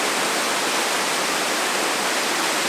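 A cascading waterfall on the Tuolumne River near Glen Aulin roars as a loud, steady broadband rush close by, unbroken and with no voices.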